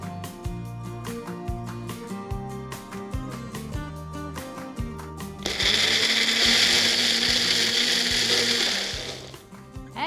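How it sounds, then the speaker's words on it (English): Background music plays for a few seconds, then a kitchen blender switches on and whirs loudly and steadily, blending cooked tomatoes with green chilies before winding down. "I'm going to let it cool and then blend it in a blender."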